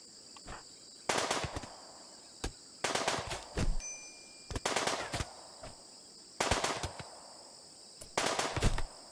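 Rapid bursts of RimWorld video game gunfire crackle in short clusters, around six volleys of quick rattling shots over a steady high-pitched ambient tone, with no voices.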